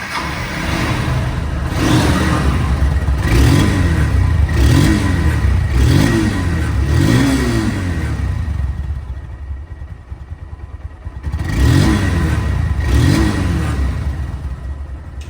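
A 2023 Honda CBS Hornet motorcycle, secondhand but in showroom condition, revs repeatedly up close. Its engine rises and falls in several sharp throttle blips over a steady idle rumble, pausing briefly before two more revs.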